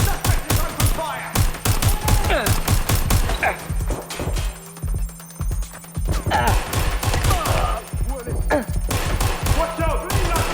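Rapid bursts of automatic gunfire and single shots from the video game Watch Dogs Legion, loud and dense with short pauses between volleys, over game music and effects.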